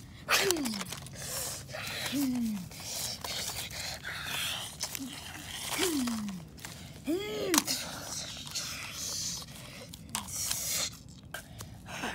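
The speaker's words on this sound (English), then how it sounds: "Already panting, it seems like the two dinosaurs have exhausted each other in less than 30 seconds." Two dinosaurs, an Allosaurus among them, pant heavily after a fight, with rough breathy gasps and short rising-and-falling vocal groans repeating close by across a continuous noisy wash.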